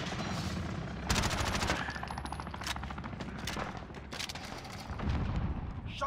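Gunfire in the Modern Warfare beta, with repeated automatic bursts and scattered shots over a busy battlefield background, moderately loud and irregular.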